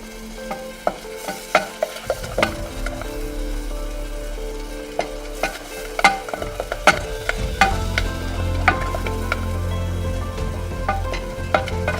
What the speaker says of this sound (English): gradually add and keep stirring